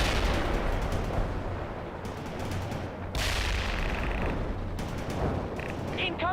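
Incoming artillery fire in the World in Conflict video game makes a dense, continuous rumble of blasts and gunfire, broken by several sharper bursts and cracks spread through the stretch.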